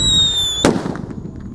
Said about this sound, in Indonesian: Ini yang lebih jumbo whistling thunder. Kita nyalakan, kita masukkan ke dalam tanah.